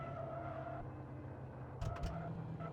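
A Bentley in the Car Mechanic Simulator 2015 game, accelerating on a test track, with a steady engine drone that shifts pitch partway through and brief tire noise near the end. Heard close up, with no talk.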